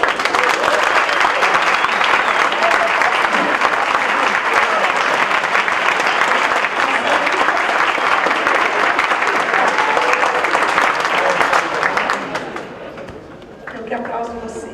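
Sustained audience applause fills a room at the close of an arts education panel, dense and steady for about twelve seconds before thinning out, with some voices and murmurs underneath.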